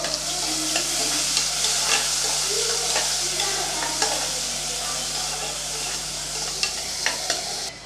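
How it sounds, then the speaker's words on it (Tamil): Two large chopped onions being stirred and sautéed in a pan for a white chickpea kurma, giving a steady close sizzle with scraping stirring strokes throughout, no talking. "இப்போ அதை சேர்த்துடலாம் நல்லா செவக்க வதக்கி விட்டுடலாம்"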